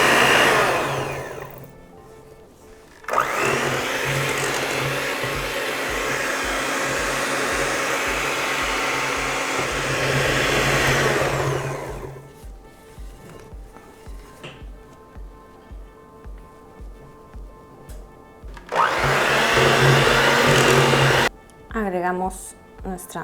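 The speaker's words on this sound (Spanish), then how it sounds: "Vamos a bajar la velocidad de la batidora para que no se nos haga aquí un polvadero." Electric stand mixer beating red velvet cake batter at a lowered speed, a loud steady motor whir that cuts out, leaves a quieter rhythmic pulsing stretch, then surges again near the end.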